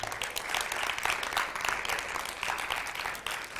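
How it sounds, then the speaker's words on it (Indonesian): A youth worship congregation breaks into steady, lively applause, many hands clapping in a close, continuous patter that holds at a fairly even level for nearly four seconds. "Mari kita beri tepuk tangan untuk Tuhan."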